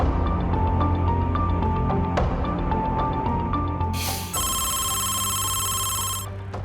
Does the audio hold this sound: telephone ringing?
yes